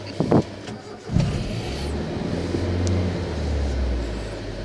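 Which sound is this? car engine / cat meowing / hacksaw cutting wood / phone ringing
car engine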